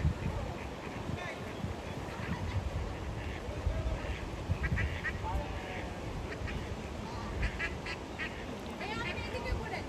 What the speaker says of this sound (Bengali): হ্যাঁ হাঁসের বাচ্চা।